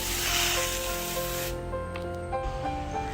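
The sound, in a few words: spraying water on mushroom beds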